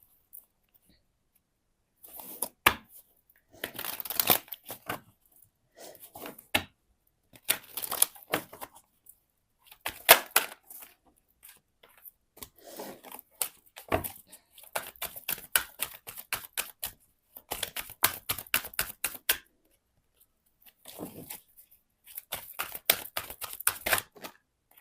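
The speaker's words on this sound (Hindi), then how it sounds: "तो जल्दी से कार्ड शफल करते हैं" Tarot cards shuffled quickly by hand, giving crisp riffling clicks and flutters in irregular bursts with brief gaps, close and dry.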